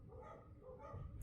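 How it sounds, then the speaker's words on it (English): A dog barks somewhere inside a building, a few muffled, distant woofs in a short burst, faint and low in the background. "I'm distracted by this dog barking."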